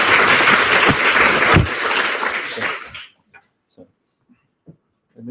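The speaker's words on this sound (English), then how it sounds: "Big applause." An audience at an academic keynote lecture claps loudly for about three seconds, then the applause cuts off and leaves a few faint knocks and thumps in near-silence.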